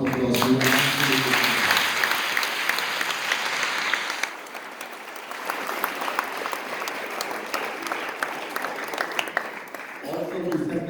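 A school audience applauds after an inter-school English drama competition, with sustained crowd clapping lasting most of the moment while voices talk over it at the start and end.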